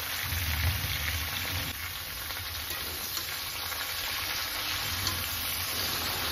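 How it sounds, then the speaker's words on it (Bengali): Spices such as cumin, turmeric and ginger frying with vegetables for Bengali sukto, giving a steady, close sizzle with faint stirring scrapes throughout and no voices. "এই যে মশলাটা কষাচ্ছি,"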